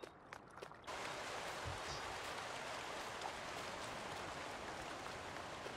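A river flowing in Farming Simulator 19 gives a steady, full rushing wash of water that swells in after a short quieter opening and then holds even and unbroken.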